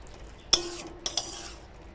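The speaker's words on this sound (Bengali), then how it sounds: "এবার ঢাকনাটা সরিয়ে দেব" A cooking pot lid is lifted off a simmering pot of chichinga and potato curry, giving a sharp metallic clink followed by a couple of lighter clanks, close and alone.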